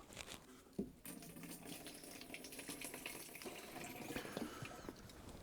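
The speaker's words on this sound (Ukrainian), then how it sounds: "Все, наливаю половину води у бачок." Water is poured into a garden sprayer tank to mix a crop treatment for garlic, a close, continuous splashing and gurgling flow with a brief knock near the start.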